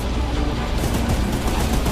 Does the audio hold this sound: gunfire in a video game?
yes